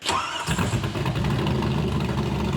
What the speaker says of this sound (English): I gotta say, the car sounds good. Who doesn't like a choppy LS?